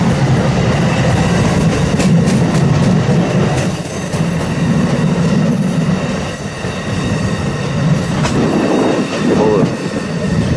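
Eastbound Amtrak California Zephyr with Superliner cars rolling past at Ashland, Nebraska, loud and close, with a steady rumble, rhythmic wheel clatter over the rail joints and a brief wheel squeal.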